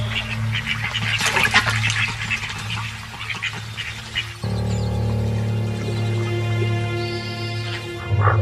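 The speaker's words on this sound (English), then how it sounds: "Feeling safe, the ducks focus on their own displays of dominance and bravado." Ducks calling and splashing in water at a crocodile-inhabited waterside, with quacks and bursts of splashing over a steady watery background throughout.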